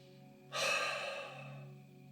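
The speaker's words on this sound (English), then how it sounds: "Take a few deep breaths into the nose," A single deep breath, drawn in through the nose and let out through the mouth, heard as one close, soft airy exhale that rises suddenly and fades over about a second and a half.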